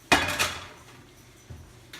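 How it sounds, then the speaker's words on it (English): A hot pan of honey-marinated salmon comes out of a home oven with a sharp metallic clank, a second rattle just after, then fainter knocks of metal against the rack, close by and brief. "So I'm going to take it out of the oven."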